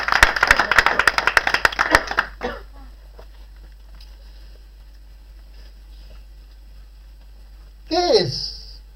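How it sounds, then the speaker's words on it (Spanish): A church congregation claps loudly for about two seconds, a fast, dense burst of hand claps that stops abruptly, followed by quiet room tone and a brief voice near the end. "aplauda fuerte a Jesús"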